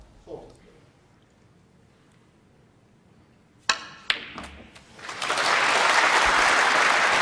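A snooker ball strike and clicks, then a packed crowd bursting into loud, sustained applause after a deep screw shot, with a commentator's voice underneath.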